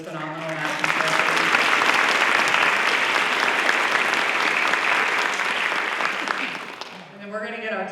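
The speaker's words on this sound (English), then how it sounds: "One more round of applause for this phenomenal math instructor." A convocation crowd at Lone Star College bursts into loud, dense applause for a math instructor, many hands clapping steadily before it dies away and a voice begins talking near the end.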